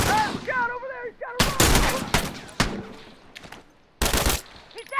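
Enemy rifle fire in The Last of Us video game, a few loud short bursts of gunshots with gaps between them, mixed with voices shouting in the game.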